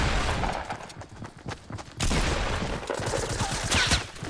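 A pump shotgun fires repeatedly in the Fortnite video game, heavy booming shots in quick succession with rumbling battle noise throughout and no talk.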